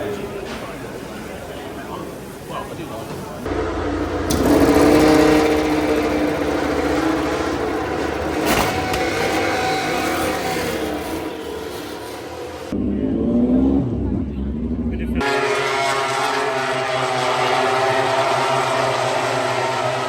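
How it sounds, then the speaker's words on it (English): MotoGP racing motorcycles at a live race event, engines roaring loudly and continuously with rising and falling revs as bikes pass, recorded from the crowd with loud ambient noise and abrupt cuts between short segments. "let me just put like 10 seconds of clips in here of the MotoGP that I went to"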